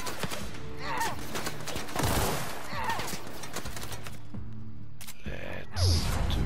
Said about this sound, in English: Let's do a bit of shooting there.